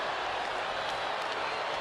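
A crowd in the WWE 2K25 wrestling video game roars and cheers in a steady, loud wash of noise that lasts the whole short moment, with a faint voice underneath.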